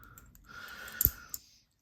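A magnetic fidget slider toy clicks softly, a faint slide followed by two sharp snapping clicks close by, then silence.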